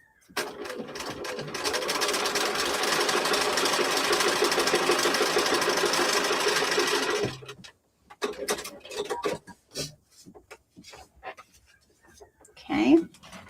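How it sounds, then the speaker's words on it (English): A sewing machine stitches down the center line of a foundation-paper-pieced appliqué on a T-shirt, running steadily and close for about seven seconds before stopping, followed by scattered handling sounds. "I'm going to stitch down that center line"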